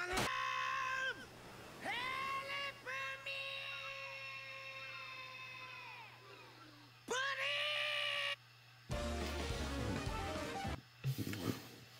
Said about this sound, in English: did they use the same scream for that guy as they did for Edamura a few episodes back?